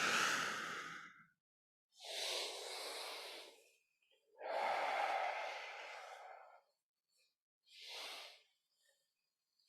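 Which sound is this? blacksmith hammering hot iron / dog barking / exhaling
exhaling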